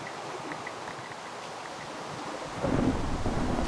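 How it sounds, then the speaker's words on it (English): Steady rain hisses in a Minecraft thunderstorm, and a deeper rumble of thunder swells near the end, with no talking. "It's still raining."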